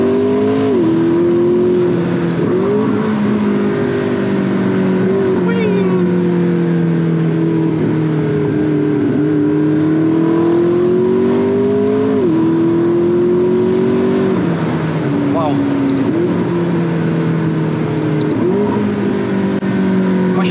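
A McLaren MP4 sports car accelerates hard and corners, its loud engine note climbing and dropping repeatedly as the throttle opens and lifts, heard continuously from inside the car.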